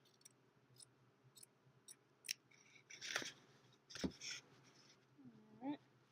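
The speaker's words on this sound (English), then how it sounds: "So I'm going to cut this burlap." Scissors cut through burlap fabric for a farmhouse pumpkin craft, with a series of crisp snips and rustles, the louder cuts clustered midway and toward the end, fairly close and quiet.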